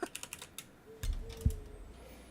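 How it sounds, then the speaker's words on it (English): A clicky gaming keyboard gives a few quick, faint key clicks in a short burst, followed by a louder low thump and a few more soft taps in the background. "We wouldn't hear it if he didn't have such a clicky ass keyboard. He's got the gamer keyboard."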